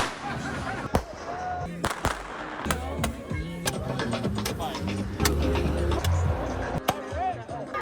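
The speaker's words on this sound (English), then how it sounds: "Fireworks." Fireworks crackle and bang at an outdoor gathering, sharp scattered pops and booms at moderate distance over a bed of crowd chatter and voices.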